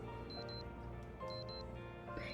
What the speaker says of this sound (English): Caleb's phone goes off.